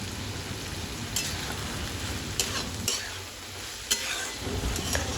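White kabuli chickpea curry sizzles steadily in a pan while it is stirred. Occasional sharp scrapes of the utensil cut through the constant close frying hiss, and no one speaks.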